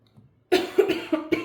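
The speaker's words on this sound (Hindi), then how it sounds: "खांसी काफ़ी चल रही है मुझे" A woman coughs after a short quiet pause, four or five harsh coughs in quick succession, close and clear with no talk.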